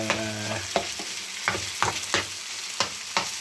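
Fajita meat sizzles in a hot pan while a utensil stirs it, sharp scraping knocks repeating in a loose rhythm over a steady frying hiss.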